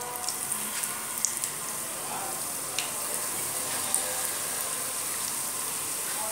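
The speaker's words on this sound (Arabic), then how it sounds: "صافي مبقى لي غير نقلي المقروط ديالي، نستنى حتى الزيت ديالي تسخن" Maqrout date pastries frying in hot oil, giving a steady hiss with small crackles and a few sharper pops, close and even throughout, with no talk.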